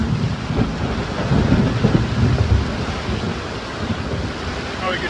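Rolling thunder rumbles during a lightning storm in the Bahamas in hurricane season, with roughly 35-knot winds. It is loud and close, mixed with gusting wind buffeting the microphone and surf noise.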